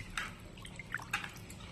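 Lentils being washed by hand in a bowl of water, heard as faint, sparse splashes and drips, a few small sloshes at close range in an otherwise quiet kitchen.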